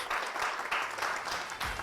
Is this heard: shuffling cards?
no